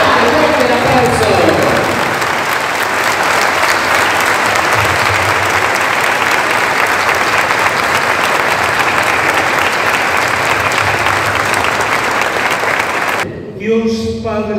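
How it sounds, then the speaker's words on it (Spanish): A church congregation gives loud, sustained applause during a patronal feast Mass for San Antonio in Capilla del Monte, 2024; the clapping fills the space for about thirteen seconds before a voice begins speaking. "¡Un fuerte aplauso!"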